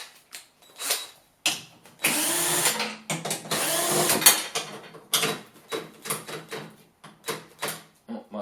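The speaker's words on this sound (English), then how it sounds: "Oh, my drill is not liking that." A power drill removing bolts from a Kia Niro / Hyundai Ioniq plug-in hybrid battery pack whirs in repeated short bursts, with a couple of longer sustained runs in the middle, close by and fairly loud.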